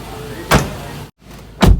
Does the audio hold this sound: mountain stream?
no